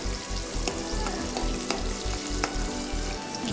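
Garlic and thin-sliced green chilies fry in a pan of oil for a cashew paneer curry, a loud, continuous sizzle with occasional stirring scrapes and no talking.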